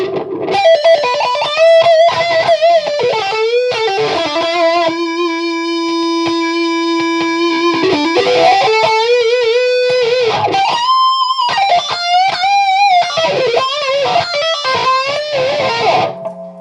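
A heavily distorted electric guitar plays through a Bogner Alchemist amp with a Crybaby wah pedal, loud sustained notes and chords sweeping in vowel-like wah tones, with a long held note in the middle and no talk.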